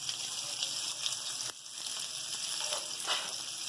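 Chopped onions, a bit under a quarter kilo, sizzle and fry steadily in a little oil in a pan for bhindi masala, a dense close crackle with a brief dip midway before resuming.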